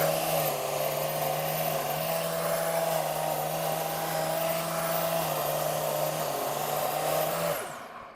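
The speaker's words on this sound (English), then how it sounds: "I can use my disc sander to do the final tune-up on these." Disc sander trimming wooden stations, a steady loud motor whine with a constant droning pitch that runs throughout and winds down at the end.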